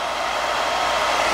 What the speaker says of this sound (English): Motor runs, exhaust out,